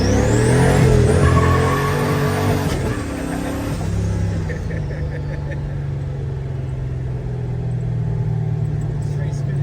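A turbocharged Foxbody Ford Mustang accelerates hard through the gears, its loud engine note climbing and dropping with each shift before settling into a steady drone, with people talking inside the car over it.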